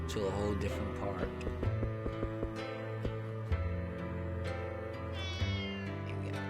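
A cat meows repeatedly in a video game, its cries sitting over steady music and in-game sound effects.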